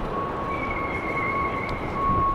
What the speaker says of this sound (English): ooh, a train